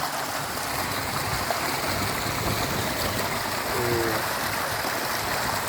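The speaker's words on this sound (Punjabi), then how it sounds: "ਪਾਣੀ ਇਦਾਂ ਜਾਂਦਾ ਜੇ ਖਾਲੀ ਨੂੰ ਪੈ ਕੇ ਅੱਗੇ ਝੋਨੇ ਨੂੰ" Steady rushing water flows continuously and close by along an irrigation channel to a paddy field, a broad even wash with a faint gurgle and no voices.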